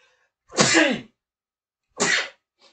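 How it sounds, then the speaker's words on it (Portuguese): Two loud sneezes about a second and a half apart, close up, followed by a brief faint sound. "Vai com espirro mesmo."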